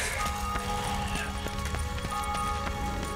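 Horse in The Witcher 3 video game, steady clip-clop of hooves at a trotting rhythm running throughout, fairly loud over continuous game ambience and music.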